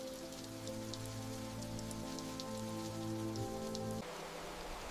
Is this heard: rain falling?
yes